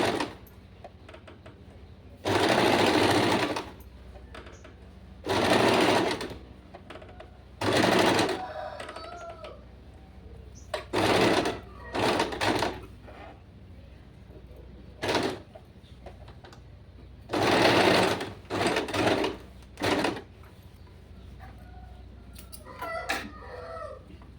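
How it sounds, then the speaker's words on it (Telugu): A sewing machine stitches fabric in repeated loud, close bursts of rapid whirring, interrupted by short pauses and occasional faint background sounds. "దీన్నే మనం లెంత్ అడ్జస్ట్ చేసుకుంటూ కుట్టేద్దాం."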